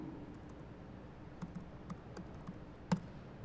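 Keys on a computer keyboard tapped in a few quiet, uneven clicks over faint room hum, close but soft, without speech.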